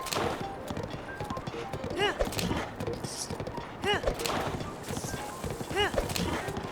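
A horse's hooves clip-clop in steady rhythm across the ground in Zelda: Breath of the Wild, close and clear, with someone talking over the hoofbeats.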